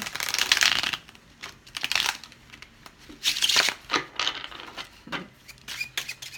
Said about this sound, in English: Okay, so I'm just giving them a quick shuffle.